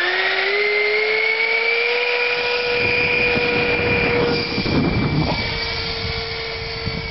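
A scratch-built FunJet radio-controlled jet with a 70mm electric ducted fan and thrust vectoring, launched at full throttle: a loud, steady high whine with a rising tone that drifts slightly as the model flies off.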